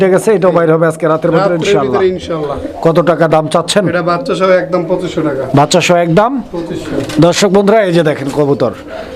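Colored Golla pigeons at a sale, with low throaty cooing close by under loud, continuous talk from a man throughout.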